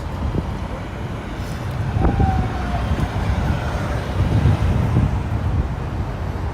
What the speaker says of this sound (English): if you hear traffic, that is because we're directly above the Brooklyn-Queens Expressway